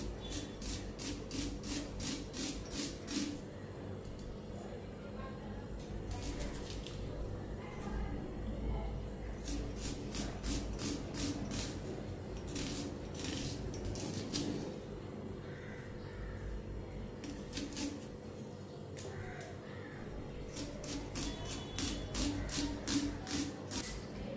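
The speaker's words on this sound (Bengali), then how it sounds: "কুচি কুচি করে কাটা দিই।" A knife finely chopping ingredients on a board for a home-cooked meal of small fish and chicken, making bursts of quick, close rasping taps separated by brief pauses, with steady background hum throughout.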